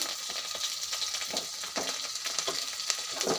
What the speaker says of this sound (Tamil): இதுவும் நல்லா வதக்க விட்டுலாம் வதங்கட்டும்